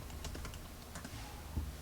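Typing on a computer keyboard: a quiet run of irregular key clicks, close but faint, with a slightly heavier tap near the end and no speech.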